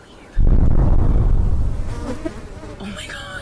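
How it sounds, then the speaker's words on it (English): A dense swarm of bees buzzes loudly and close, a thick continuous drone that sets in abruptly, then thins slightly with a few stray tones toward the end. "There's a lot of bees."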